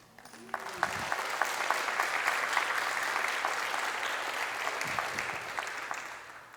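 A congregation at a Unity church service gives a warm round of applause, steady clapping that swells in and then sustains at an even level, with faint low murmurs underneath.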